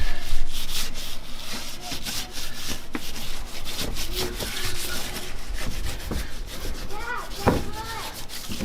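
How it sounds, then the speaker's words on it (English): A cleaning wipe rubs leftover dirt off the fender of a RAM 3500 truck, ready for OEM fender flares. The scrubbing is steady and close, with a few scattered knocks and a brief voice-like sound near the end. "I'm going to take this cleaning wipe and try and get this remaining dirt off of here"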